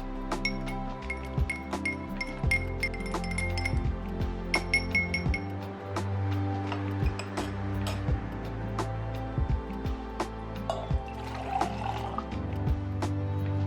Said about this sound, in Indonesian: sebelum kita tarik kopinya, kita aduk terlebih dahulu